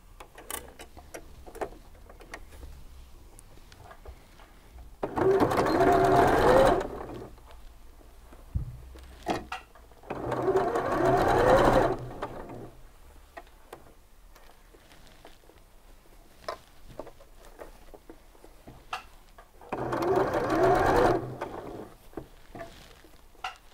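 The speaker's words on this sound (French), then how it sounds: "Donc nous allons coudre maintenant ce premier côté du poignet." A sewing machine stitches the first side of a shirt cuff, running in three separate bursts of a few seconds each with quiet pauses between them.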